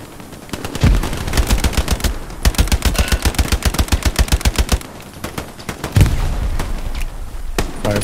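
Gunfire in a video game crackles in rapid bursts: a dense run of evenly spaced shots, a brief pause, then more sustained firing, loud and close with no talk.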